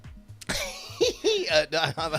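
A person coughs several times in quick, rough bursts, close and fairly loud, with voiced catches between coughs.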